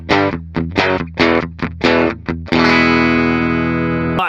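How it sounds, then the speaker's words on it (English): A 2018 Gibson Les Paul BFG electric guitar in ebony, played clean through its bridge P90 pickup: several short plucked notes and chords, then one sustained chord that rings loud and steady before being cut off. "The bridge sounds a bit weak to me on clean."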